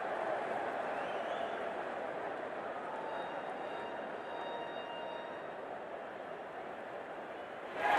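Steady, dense crowd roar from a stadium in the Cricket 24 video game during an India versus England match, holding at an even level throughout and not drowned by commentary.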